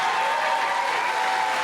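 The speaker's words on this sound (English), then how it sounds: "one more big applause for all these wonderful students" Dense, steady applause from a large ceremony audience at an awards event honoring students, a continuous wash of many hands clapping throughout, loud and full with no voices standing out.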